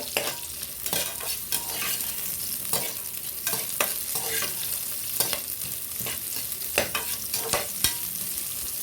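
Onions sauté in a pan for a chicken gravy, with a continuous bright sizzle and frequent sharp scrapes and taps of a spoon stirring, close up and steady throughout.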